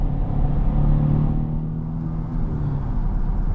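A 2016 Chevrolet Silverado pickup with a V6 accelerates on a highway past an 18-wheeler, its steady low engine drone and road rumble heard from inside the cab.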